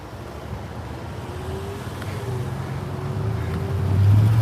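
A steady roar of traffic passing on a street in the Bronx, with an engine drone that grows louder toward the end as a vehicle approaches.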